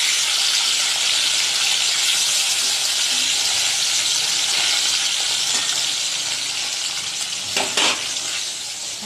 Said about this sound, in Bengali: মাছ ভাজা চলছে